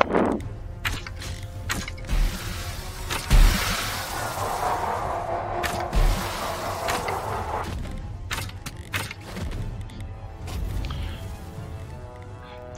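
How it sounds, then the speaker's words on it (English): Creaking, grinding mechanical noises of an approaching mask enemy in a video game shift and rumble with intermittent clanks and thuds, building in a menacing, otherworldly way as it draws near. "noise you heard, you can hear the mask approaching."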